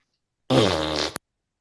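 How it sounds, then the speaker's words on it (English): One buzzy, drawn-out fart sound effect lasts about half a second, loud and close, ending with a tiny click, with no talking around it. "Always with the fart sound."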